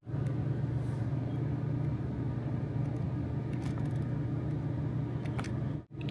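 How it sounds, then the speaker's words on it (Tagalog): Traffic on the streets below a Cebu accommodation at night makes a steady low rumble of cars and engines, continuous and somewhat distant, with faint higher noises scattered through it. "Gabi na yung traffic sa baba."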